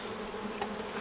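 Russian honey bees swarm over a beehive opened for the first time in more than 30 years. Their dense, steady buzzing is close and continuous, and no voices are heard.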